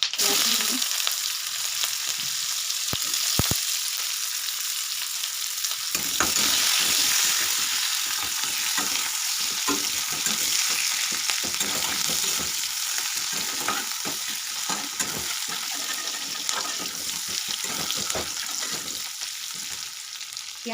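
Onion and panch phoron five-spice frying in a pan, a loud continuous sizzle with occasional scraping stirs, close and steady.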